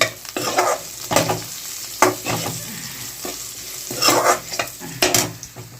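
Turmeric stirred into food frying in a pan: a continuous close sizzle broken by repeated scraping stirs at an irregular rhythm, with no voices.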